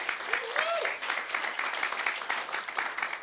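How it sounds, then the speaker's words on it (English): An audience at a cybersecurity conference claps hands, a continuous patter of many hands throughout, moderately loud, with a brief voice near the start. "Maybe people can clap hands for that."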